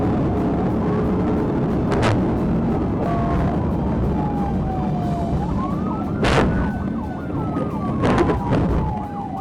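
Police car siren wailing during a high-speed chase, rising and falling tones over loud road and engine roar, with a few sharp bursts along the way.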